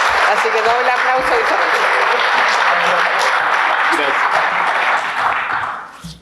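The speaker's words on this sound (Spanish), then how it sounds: "Así que doble aplauso," A room full of people breaks into sustained, dense applause at a book launch event, clapping steadily before tapering off at the end.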